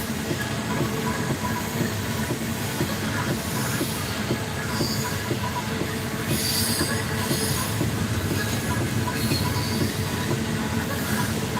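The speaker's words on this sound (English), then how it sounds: "The freight train is always the longest." A long freight train rolls steadily past close by, a loud continuous rumble of railcars with squealing wheels and clattering, hissing steadily through without talk.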